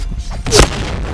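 A grenade bursts in a video game firefight, one sharp heavy boom midway through, loud and close, with a brief rumble trailing off behind it.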